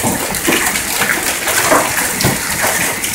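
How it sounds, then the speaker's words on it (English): Hail falling in Fort Worth, Texas, a dense, loud, continuous patter and rattle of hailstones striking surfaces nearby, with no voices. "it's hailing right now"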